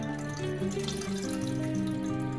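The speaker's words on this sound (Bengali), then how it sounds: "তাই সরাসরি আপনারা অন্য আরেকটি পাত্রে ঢেলে নিলেও হয়ে যাবে, যেমন কি আমি নিচ্ছি।" Onion peel water pours steadily from one container into another, a close, continuous gurgling trickle with no one talking.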